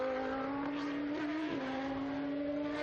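A high-pitched Judd V10 historic race car engine howls steadily at a circuit, its tone dipping briefly as it shifts up through the gears before climbing again, loud and close.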